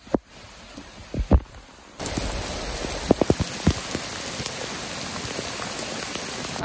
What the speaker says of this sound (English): sitting in the car waiting that the rain is over